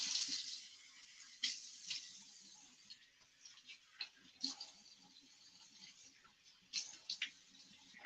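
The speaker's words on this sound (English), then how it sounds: "Let me do a nice cold water rinse." A faint, hissing stream of tap water runs steadily, with a few soft splashes and clicks as it hits the sink.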